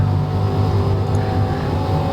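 A GT3 race car engine in a sim racing game drones loud and steady at high revs, with no talking over it.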